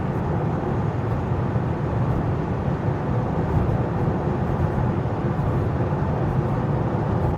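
Inside a new Tesla Model Y cruising on a dry motorway, steady road and wind noise fills the cabin as a loud, continuous low rumble with broadband hiss, and nobody talks.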